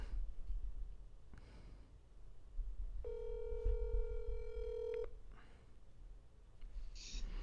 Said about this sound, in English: If I dial her phone number